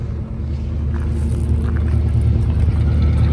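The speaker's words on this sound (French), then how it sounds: "Très très joli bruit. Cette voiture chante." A 1965 Ford Mustang convertible's engine runs steadily with a deep, continuous low rumble, loud and close, holding an even tone throughout with no voices.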